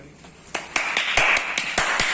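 An audience at a quiz prize presentation gives scattered, sparse applause, a handful of separate sharp claps spaced irregularly at close range, with no talk.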